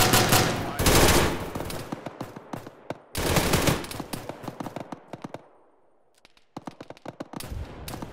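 Bursts of rifle and machine-gun fire in a military shooter battle on a beach, loud and close, coming in rapid volleys with brief pauses, then a quieter stretch before more shots resume.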